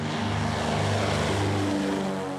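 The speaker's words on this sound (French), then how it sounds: "Le bruit du moteur à plein régime ne les fait pas fuir" A propeller plane engine drones loudly at full throttle on Saint-Barthélemy, a steady, throbbing roar that stays close and constant for the whole moment.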